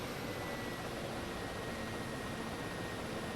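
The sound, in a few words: helicopter engine spooling down, video game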